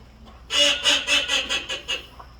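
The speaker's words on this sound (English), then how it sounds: "This is what the teal sounds like. I got the boy duck and the girl duck. Here's the girl duck." Recorded call of a female teal duck, about seven loud, close quacks in a steady rhythm that fade toward the end, with no voice over them.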